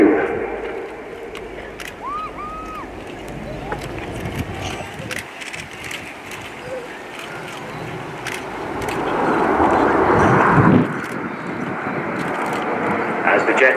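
Red Arrows jet aircraft pulling up into a loop during an air display at RIAT 2018, a broad roaring engine rush that swells toward the end, heard from the crowd with a commentator talking over it.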